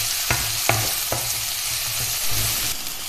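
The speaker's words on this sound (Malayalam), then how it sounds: "ടൊമാറ്റോയും ചേർത്ത് നന്നായിട്ടൊന്ന് വഴറ്റിയെടുക്കാം" Two chopped medium tomatoes sizzle steadily in a hot pan for a cauliflower curry, with a spoon scraping and stirring in a few distinct strokes over the continuous frying hiss and no voices.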